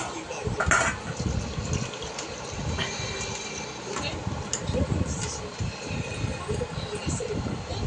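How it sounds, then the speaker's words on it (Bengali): Goat meat curry sloshes and gushes from a pressure cooker into a bowl, a wet pouring sound heard under a woman's speech in a home kitchen. "তো মাংসটা ঢালবো বলে একটা বাটি নিয়ে আসা করালাম"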